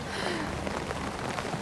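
Steady rain falls on a city street in central Balıkesir, Turkey, a dense, even patter with a few close drops standing out, heard alone without talk.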